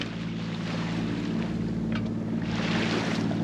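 A 1959 Triton sailboat motor sailing on a calm ocean off Oahu, its engine giving a steady low drone with wind and water wash over it, constant and close throughout.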